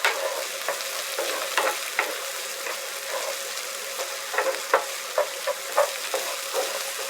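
Peppers stirred through a hot pan while preparing beef ravioli, with a steady sizzle of frying and repeated scraping, clattering stir strokes roughly every half second, close and moderately loud, no talking.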